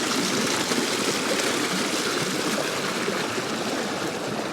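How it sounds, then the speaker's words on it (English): Creek water rushing over small rapids near a bush camping spot in New South Wales, a loud continuous hissing flow, close and steady, with no voices. "see if we can follow the water down over the rapids here"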